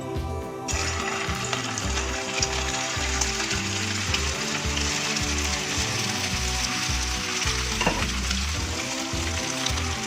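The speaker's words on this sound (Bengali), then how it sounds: "তেল গরম হয়ে গেছে, এবার কোফতাগুলো আমি দিয়ে দেবো একে একে।" Prawn koftas fry in hot oil in a kadai, producing a loud, continuous close-up sizzle with bursts of crackle from start to finish.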